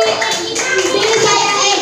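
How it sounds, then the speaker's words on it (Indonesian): Children clap together in a classroom, a dense, steady wash of applause close by that fills the short moment without pause. "Ya, tepuk tangan untuk Egi."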